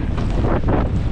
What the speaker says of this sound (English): Feels like it's a bit of wind.